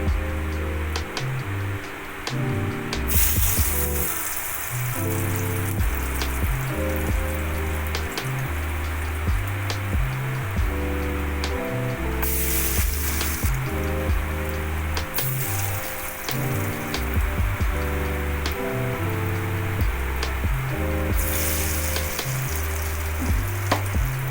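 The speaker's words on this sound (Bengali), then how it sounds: "এবারে আমি বড়াগুলো ভেজে নিচ্ছি" Fig and lentil fritters deep frying in hot oil, a steady broadband sizzle running throughout beneath loud, continuous background music, with brighter bursts of crackle at intervals.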